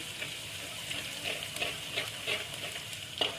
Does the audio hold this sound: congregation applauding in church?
no